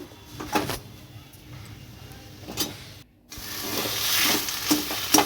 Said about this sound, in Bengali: সেগুলো আমি হাতা দিয়ে একটু চাপ দিয়ে দিচ্ছি